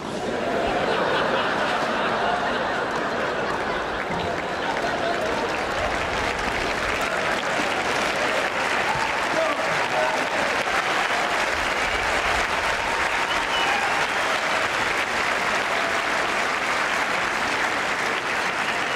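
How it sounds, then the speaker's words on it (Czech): A large crowd at an exhibition tennis match in Prague applauds steadily and loudly for the whole stretch, with a few scattered laughs mixed into the dense clapping. "Diváci po celém světě tleskají Mansuru Bahramimu."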